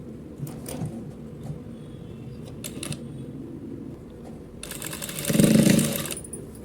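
A sewing machine stitches the folded lining onto a blouse collar: a short whirring run swells loud midway and then cuts off, with quieter handling noise before it and no talking.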